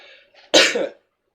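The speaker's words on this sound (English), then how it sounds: "Sorry for the coughs" A single loud, close cough bursts out after a moment of faint background sound, then gives way to silence.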